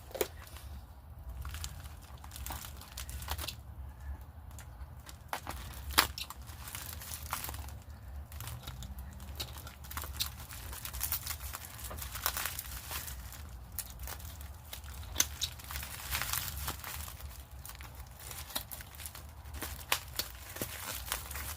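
Plastic packaging for coaster-style ornament blanks with small funnels and ball bearings is cut open and handled, giving steady close crinkling, crackling and tearing with scattered snips and rustles, no speech.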